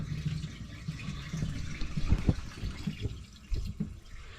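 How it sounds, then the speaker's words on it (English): Water runs and splashes into a plumbed laundry sink, with an uneven gurgling flow and a few louder sloshes. "You can hear the water running."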